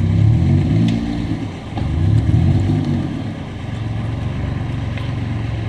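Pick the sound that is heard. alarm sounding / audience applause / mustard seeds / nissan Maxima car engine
nissan Maxima car engine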